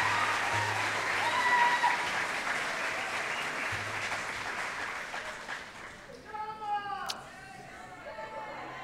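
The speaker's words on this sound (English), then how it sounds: "Would you please give a round of applause to Dr. Nolan's Medical Careers Class of 2022." Applause from the crowd at a high school senior recognition ceremony for the Class of 2022, broad and steady at first, fading as a voice begins speaking over it.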